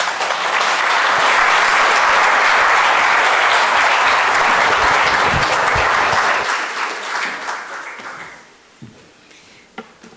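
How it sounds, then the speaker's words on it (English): Sustained audience applause, loud and dense for several seconds, then thinning out to a few scattered claps as it fades. "Another round of applause for Mr. Han"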